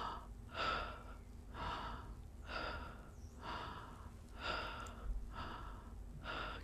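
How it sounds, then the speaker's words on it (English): Someone takes deep, rhythmic open-mouthed breaths during a guided breathing exercise, about seven even, breathy inhale-exhale cycles, close and quiet with no talking. "Keep breathing like that."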